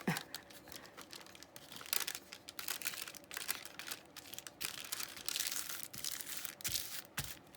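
Paper torn and crumpled by hand at close range during junk journal crafting, with rapid crackling crinkles and ripping bursts that come and go.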